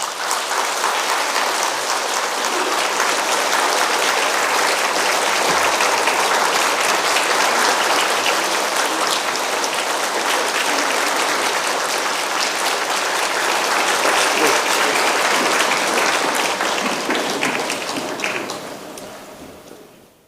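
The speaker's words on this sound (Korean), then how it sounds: "우리 뜨거운 박수로." Loud, sustained applause from a church congregation during a Sunday worship service, steady dense clapping for about eighteen seconds before tapering off at the end.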